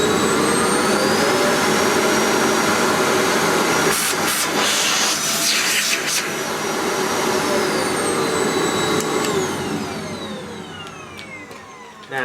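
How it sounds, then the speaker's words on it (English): A Hoover TC1185 Alyx bagless cylinder vacuum cleaner runs on its minimum setting, giving a loud, steady whine and rushing hiss that holds for most of the run and then eases off toward the end, with no talking. "Now for a cheap Chinese vacuum, I don't think that sounds too bad."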